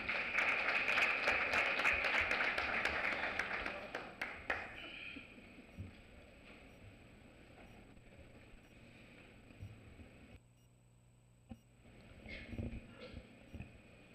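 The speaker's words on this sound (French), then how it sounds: "Sous vos applaudissements, bien sûr." Audience applause at the opening ceremony of a youth pre-forum, a dense round of clapping that fades after about four seconds into scattered claps and room noise, with faint voices and shuffling later.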